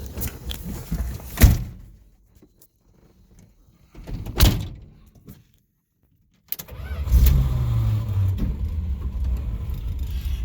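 A 1986 Dodge 4x4 pickup truck closes its doors with two thumps, falls quiet, then starts up and drives off with a steady, rumbling engine that grows close and loud.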